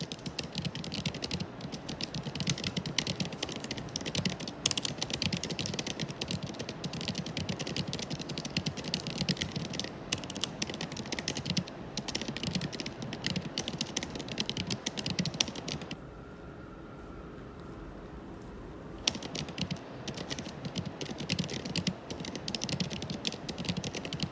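Rapid, steady typing on a computer keyboard, close up, continuous clicking that pauses briefly for a few seconds before resuming.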